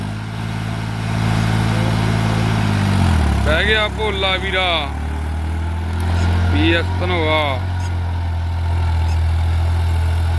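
A New Holland 3630 4x4 Super Plus tractor engine idles low and steady, then its note steps down as it settles into a deep rumble. Someone speaks over it in two short bursts.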